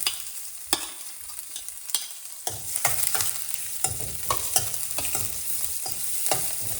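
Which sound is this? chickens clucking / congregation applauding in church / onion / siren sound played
onion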